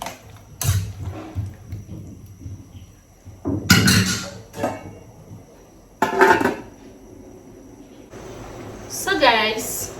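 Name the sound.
pot of beans and potatoes being stirred and covered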